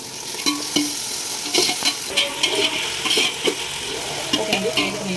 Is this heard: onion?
yes